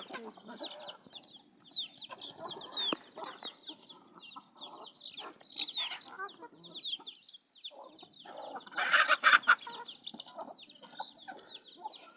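Chickens on a poultry farm cluck and squawk continuously at moderate distance, many birds overlapping, with a sharper burst of agitated squawking near the end.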